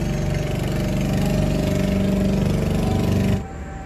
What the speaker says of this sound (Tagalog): Maraming dumadaang bangka.